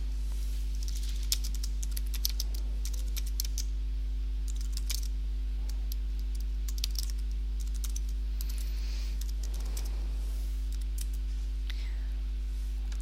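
Steady typing on a computer keyboard, a rapid patter of close key clicks running without pause under a constant low electrical hum, no voices.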